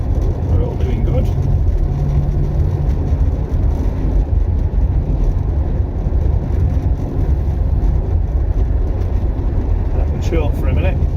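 A Triumph Stag engine drones steadily from inside the moving car as it follows a Rover P6 on a December road run to Buxton, a loud continuous low rumble with road noise throughout.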